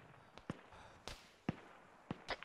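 Distant gunshots in the military game Arma 3: about five sharp, separate cracks spaced irregularly across a couple of seconds, with the last two close together, over quiet background noise.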